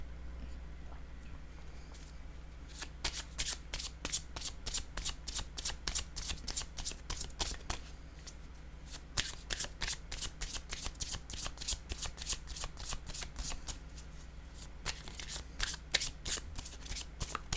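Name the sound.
tarot cards being handled and shuffled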